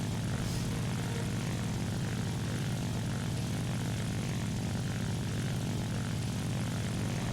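A Ki-44-II Hei fighter's propeller engine in War Thunder gives a continuous, loud, even roar during a diving attack, with no voices over it.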